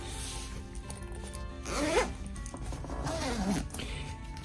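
A double zipper on a travel backpack is pulled open in two close, raspy zips about a second and a half apart, near and fairly loud over a quiet background.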